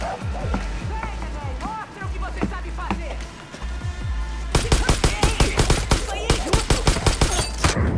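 Rapid bursts of gunfire ring out in the video game Far Cry New Dawn, a dense fusillade of loud shots in the second half after scattered in-game sounds earlier, with a voice over the action.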